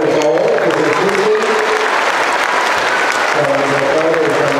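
A festival crowd at a patron saint celebration for Santa María de Guadalupe in Mixquiahuala bursts into loud, sustained applause for Father Rodrigo, a dense wash of clapping with a voice speaking over it.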